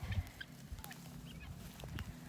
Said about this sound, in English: I think they're turkeys.